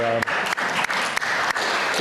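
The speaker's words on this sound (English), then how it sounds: "I think you all deserve a round of applause" A room full of people claps steadily and loudly, a dense continuous applause with a few brief dips.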